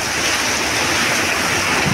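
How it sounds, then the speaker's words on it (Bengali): Torrential rain in Arambagh amid flooding roars as a loud, continuous wash of noise, with wind buffeting the microphone and no voices over it. "বৃষ্টির রেস দেখতে পাচ্ছেন কীভাবে বৃষ্টি পড়ছে।"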